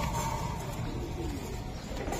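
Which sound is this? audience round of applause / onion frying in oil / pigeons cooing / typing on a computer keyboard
pigeons cooing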